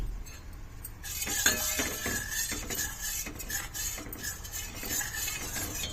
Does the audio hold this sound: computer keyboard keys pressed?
no